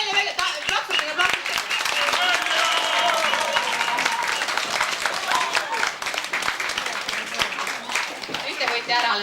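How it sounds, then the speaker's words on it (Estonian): An audience claps and applauds at an outdoor village day event, a dense, continuous patter of many hands, with talk mixed in among the crowd. "Plaksutage."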